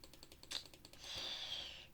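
Computer keys clicked rapidly during Roblox play, a run of light taps followed by a denser, continuous patter of fast clicking, close and moderately quiet with no talk.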